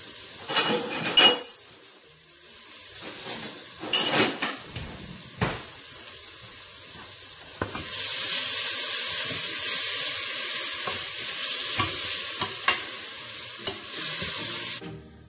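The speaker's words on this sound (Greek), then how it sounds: "Βάζουμε 4 κουταλιές της σούπας λάδι και ανακατεύουμε." Chopped onion in four spoonfuls of oil, stirred in a pot with a utensil: scattered clinks and scrapes, then a louder, steady hiss of frying that carries on to the end, close by with no voices.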